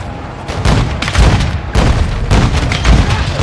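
Heavy booming blasts from an A-10 airstrike in the video game Modern Warfare 2 roll out as repeated loud, dense bursts, several impacts in quick succession with a rumbling low end and little pause between them.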